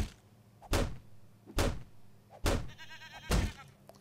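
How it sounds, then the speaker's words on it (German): A goat in the 7 Days to Die game bleats once, briefly, between four heavy, evenly spaced knocking thumps against a quiet background. "Hier ist eine Ziege."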